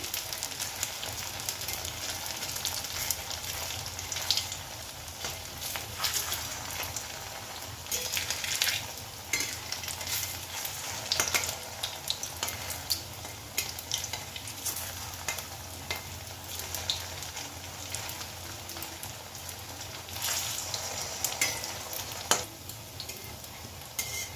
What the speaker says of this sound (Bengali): দুবারে ভেজে নেব একটু সিমে ভাজতে হবে আস্তে আস্তে